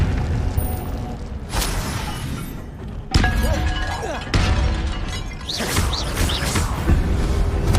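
Spell effects in the Hogwarts Legacy video game, with the Incendio fire spell among them: sharp bursts and crashes, then sustained crackling swells and whooshing tonal sweeps. The sounds arrive in several distinct loud segments, with faint talk underneath.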